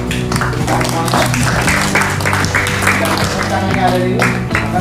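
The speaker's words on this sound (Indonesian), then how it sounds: "Saya minta dari semua tepuk tangan." Students at an Islamic boarding school clap along in a hall, with rhythmic hand claps under loud, steady talk and a music-like tonal background.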